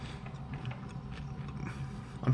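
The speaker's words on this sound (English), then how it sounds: "I'm probably not going to be able to stop eating this." Someone chews a mouthful of cheese and caramel corn up close, with soft, irregular crunches and bites over a quiet background.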